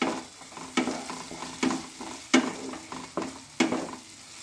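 Green peas with ginger and spice paste fry in a wok, a soft sizzle punctuated by regular stirring strokes, about one scrape every second, close and clear.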